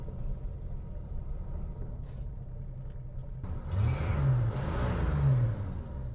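A 1970 Dodge Dart engine runs steadily as the car drives, a low continuous rumble that swells louder partway through with rising and falling engine tones.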